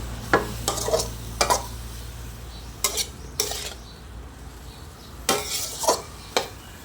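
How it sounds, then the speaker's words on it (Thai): Straw mushrooms stir-fried with chili and a splash of water in a pan over low heat, heard as a soft background sizzle broken by several sharp scraping stir strokes of a spatula against the pan. "เราใส่น้ำลงไปนะคะ ให้เห็ดสุกนะคะ เราก็ผัดให้เข้ากันแบบนี้เลย"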